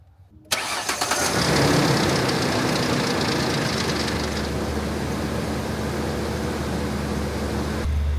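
A 2008 Ford Explorer with a 4.0 V6 cranks briefly and catches, then settles into a steady, loud idle with a faint rattling texture running underneath, ending abruptly.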